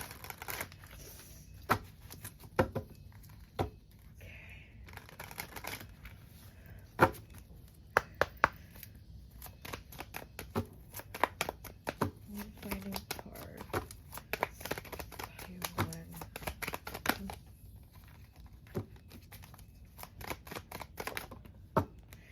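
Tarot cards are shuffled and drawn in a quiet room, giving a long run of soft, irregular snaps, slaps and riffles scattered across the whole stretch, with no voices.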